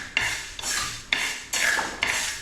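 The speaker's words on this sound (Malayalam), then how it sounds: "നമുക്ക് നന്നായി ഇളക്കി വറുത്തെടുക്കാം." Lentils for paripp curry are stirred and roasted in a pan. A spoon scrapes against the pan in a regular rhythm of four or five sweeps, with a faint sizzle between the strokes, close and alone.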